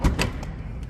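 A carbon fiber butterfly door on a BMW i8 swings open with a brief thud and latch click followed by a soft mechanical whir, close and fairly loud, no talking.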